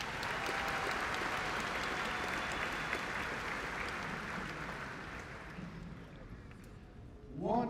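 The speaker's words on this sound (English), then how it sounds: "Give yourselves a round of applause." Graduation ceremony crowd applauding the state championship soccer team, a sustained sheet of clapping that gradually fades before a speaking voice comes in at the close.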